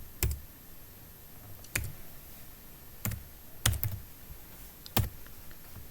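Keys on a computer keyboard tapped to enter a PIN during an online registration form, giving six sharp, separate clicks spaced irregularly across a few seconds in a quiet room.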